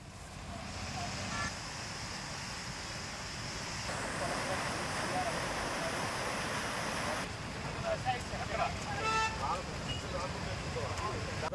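Rushing water from an overflowing canal roars steadily in the open air, a broad continuous wash with wind buffeting the microphone and faint background activity throughout.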